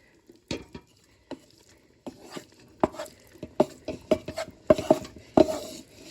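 Vegetables being stirred into bolognese sauce in a pan, with a spoon scraping and knocking against the pan in irregular bursts, close and clear, with a faint sizzle beneath and no talk.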